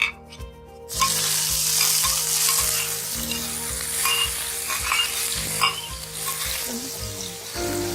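Mustard seeds, cumin seeds and grated ginger sizzle and crackle steadily in hot oil in an Indian ivy gourd and potato dish, with regular stirring scrapes in the pan after a brief quiet start.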